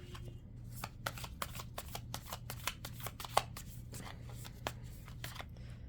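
Tarot cards are shuffled by hand in a continuous run of quick, crisp flicks and slaps, close and fairly quiet, with no talking.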